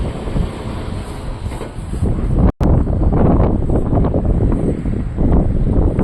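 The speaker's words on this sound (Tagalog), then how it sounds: "malakas yung hangin" Strong wind at a ferry port roaring and buffeting the microphone, a continuous loud rumble with a momentary cut partway through.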